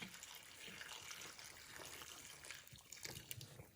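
Water poured into a bowl holding dried vermicelli and black fungus for spring rolls, a steady splashing, trickling pour that lasts throughout, with no talking.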